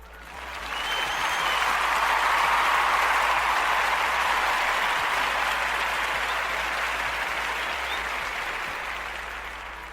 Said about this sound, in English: give this young man some applause